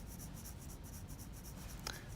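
A soft 6B pencil shades across paper with a quiet, steady, rhythmic scratching of repeated strokes, close up and faint, with no voices.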